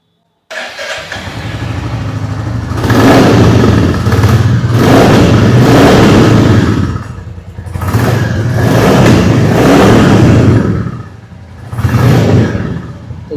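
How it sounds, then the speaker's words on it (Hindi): A 2024 Royal Enfield Bullet 350 motorcycle starting up, then its thumping single-cylinder exhaust note revving hard in two long loud bursts with a brief dip to idle between, close and alone without talk. "तो चलिए आपको एग्जॉस्ट नोट हम सुना देते हैं न्यू"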